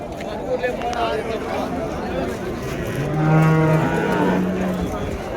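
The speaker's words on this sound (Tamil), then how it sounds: "இந்த வகை பாருங்கள் ஏர் மாடு தாங்க ரெண்டு நல்ல பெரிய மாடு" Plough bullocks low and move about in a busy outdoor cattle market in Vaniyambadi, with a crowd murmuring and someone talking nearby.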